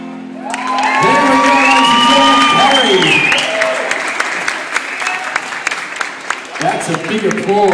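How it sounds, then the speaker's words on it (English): Audience applause with cheers and whoops after a performance, swelling over sustained musical tones at first, then continuing as scattered clapping with shouts and voices mixed in. "A big applause."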